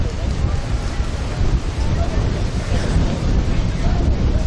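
Strong wind buffeting the microphone on a sandy beach, a loud steady roar with constant low rumble and gusting turbulence that persists throughout.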